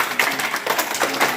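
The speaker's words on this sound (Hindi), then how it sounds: "12 कदम पे, तालियां बजा दीजिए।" A brief burst of children's hand clapping fills a school classroom during a readiness activity, a short, dense scatter of light claps at steady moderate volume.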